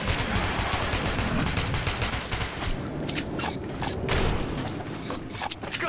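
Rapid sustained gunfire crackles in the video game Metro 2033 Redux, a dense burst of automatic shots and booming impacts over several seconds, loud and continuous with no clear speech.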